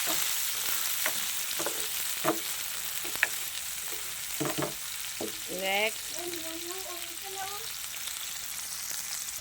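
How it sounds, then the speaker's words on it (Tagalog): Onion, garlic and tomato sautéing in a pan: a broad, steady sizzle with occasional utensil knocks, and a brief vocal-like chirp over it near the middle. "ginisa niya yung mga sangkap, yung bombay, ahos, tsaka kamatis"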